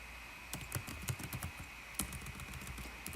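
Quick, close typing on a computer keyboard: a rapid run of crisp key clicks with a few louder strikes, heard alone without talk.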